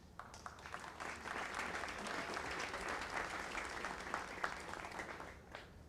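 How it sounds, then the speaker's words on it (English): A lukewarm round of applause rises from a morning event audience, a soft, fairly even wash of many hands clapping at a distance, fading out at the close. "thank you for that lukewarm round of applause"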